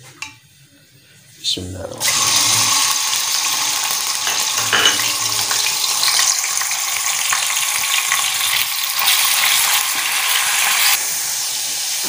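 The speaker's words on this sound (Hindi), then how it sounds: "घी हमारा गर्म हो चुका है। अभी हम जो ना चिकन जो है हमने तकरीबन 200 ग्राम चिकन ले रहे हैं, उसको जो ना फ्राई कर लेते हैं।" About 200 grams of chicken sizzles steadily in hot ghee in a pan, with a sudden loud frying hiss starting when it goes in and continuing close, a few light stirring sounds, and a voice talking over it.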